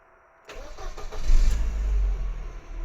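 Mercedes M111 engine cranking and catching right after a crank position sensor replacement: a brief starter whir, then the motor fires and settles into a loud, rumbling low idle, close up with no talk.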